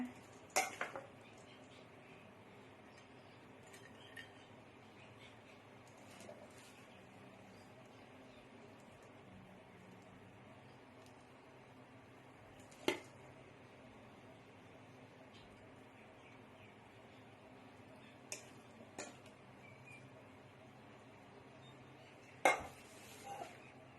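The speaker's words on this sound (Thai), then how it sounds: "ก็ตักน้ำยำราดลงไปเลยนะ" A spoon ladles yum dressing over fried crispy enoki mushrooms, making faint, sparse clinks of metal on a dish against a quiet room background.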